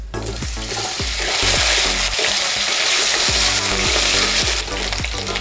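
Potatoes fry in hot oil with bay leaf and five-spice, a loud, steady sizzle with repeated scraping strokes of a spatula against the pan, close up and with no talking.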